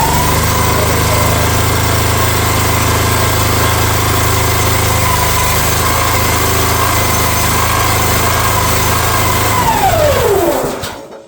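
A mini excavator's engine runs at a steady, loud, rumbling throttle for about ten seconds, then winds down and dies away as the throttle drops.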